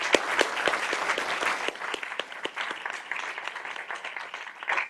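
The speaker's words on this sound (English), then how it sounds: "So let's give him a round of applause." An audience applauds a speaker at a facilitated discussion session, a steady wash of many hands clapping throughout, fairly close and even in loudness, with no talking over it.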